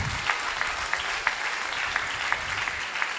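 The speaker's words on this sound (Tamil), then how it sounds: "நல்லா கைத்தட்டுங்க." An audience at a ceremony honoring women achievers keeps up steady, moderately distant applause, a dense patter of many hands with occasional sharper claps standing out.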